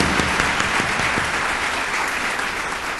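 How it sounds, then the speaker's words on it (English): An audience at a university spring convocation applauds steadily, a dense even wash of clapping filling the hall throughout with no speech over it. "And I believe Marilyn and Kathy, can you stand up for a round of applause?"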